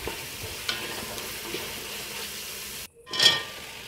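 Tomato paste frying in oil in a pan with vegetables, a steady close sizzle with occasional stirring scrapes, a brief drop to near silence, then a short hissing burst as frying resumes.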